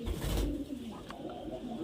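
Murshidabad Giribaz pigeons give a soft, short coo close by over a quiet background, with no one speaking.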